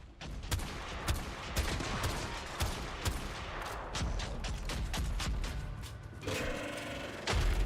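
Rapid video game gunfire from a war game keeps up a dense stream of sharp, close shots and thuds, with heavier impacts near the end.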